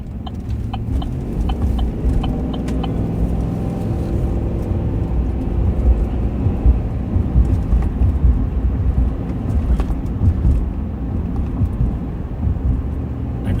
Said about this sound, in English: It sounds like some cars driving at a high rate of speed